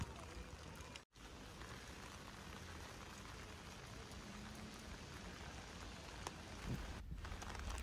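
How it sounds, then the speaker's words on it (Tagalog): Steady rain falling outdoors in Trieste, Italy, a continuous faint hiss of drops on surfaces with no talk. "Kaso nga lang umuulan"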